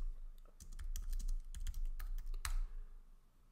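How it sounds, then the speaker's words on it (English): Quick, close clatter of keys being typed on a computer keyboard as a terminal command is entered, a short burst of taps ending in one firmer keystroke. "So let's type npm init."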